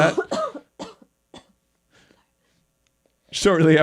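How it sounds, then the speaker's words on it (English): A person coughs in a short burst of several dry coughs that fade into quieter breathy catches, then speech starts. "Stop coughing."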